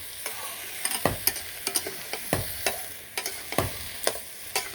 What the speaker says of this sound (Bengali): সবজিটা ভালো করে কষিয়ে নিই